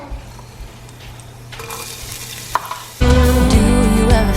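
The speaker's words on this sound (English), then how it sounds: "in my pan of warm oil, I'm going to put in my chopped up onions and garlic" Chopped onions and garlic drop into a pan of warm oil for butternut squash soup. A quiet hiss builds over a few small clicks, then a loud, bright sizzle bursts in and carries on close by.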